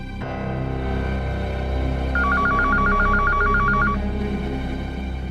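An office telephone rings with a steady electronic trill, loud and close, repeating without pause and with no talk over it.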